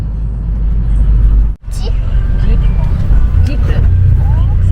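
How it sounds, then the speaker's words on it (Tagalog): A Philippine jeepney rumbles past on a busy street, a steady low engine drone with a brief dropout, traffic noise throughout and people talking over it. "Jeep."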